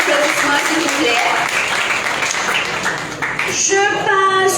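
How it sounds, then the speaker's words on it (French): Audience applause rings out at a tribute ceremony honoring young role models, a continuous wash of clapping with voices and a short musical phrase rising near the end. "Nous les reconduisons à leur place avec des choses d'applaudissements, s'il vous plaît."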